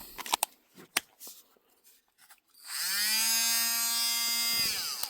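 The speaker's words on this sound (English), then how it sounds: "A full cordless Dremel kit." A cordless Dremel rotary tool spins up to a steady, loud high-pitched whine lasting about two and a half seconds, preceded by a few light handling clicks and taps.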